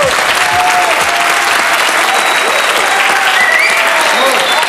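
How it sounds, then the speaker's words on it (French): Loud, sustained applause from a large television studio audience, dense and steady throughout, with a few voices rising faintly within the clapping. "On applaudit Stéphanie de Monaco"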